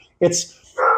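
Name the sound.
dog barking in the background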